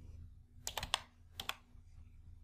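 A few quick keystrokes on a computer keyboard as a short word is entered into a spreadsheet function box: three close clicks, a pause, then two more, near and fairly quiet over a low steady hum.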